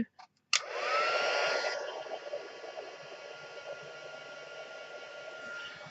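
Heat gun blowing over an embossed greeting card, a loud whooshing roar that starts abruptly after a brief click, peaks early, then settles into a steady softer hiss close by.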